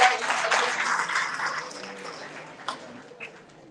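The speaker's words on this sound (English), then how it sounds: "Can you please give Hussein Gambia a round of applause?" A crowd applauds, the clapping dense at first and gradually thinning out, with a few scattered claps near the end.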